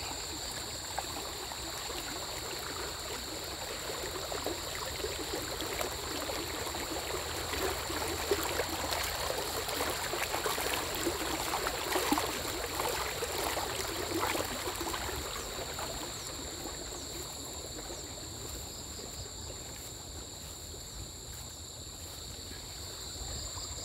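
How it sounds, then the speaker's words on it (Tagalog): Steady broadband rush of a large river flowing through a forest, a continuous near wash of moving water with no voices, holding even in level throughout. "ngayon ko lang na-discover itong ilog na malaki"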